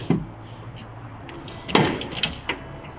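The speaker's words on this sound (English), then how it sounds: "This is running heavy duty drawer slides, so we click these out and pull." Heavy duty drawer slides on an overland camper setup of a Toyota Hilux click free, followed by a drawer pulled open with a sliding rumble and a few clunks, close and moderately loud.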